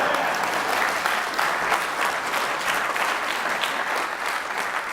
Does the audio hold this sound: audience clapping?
yes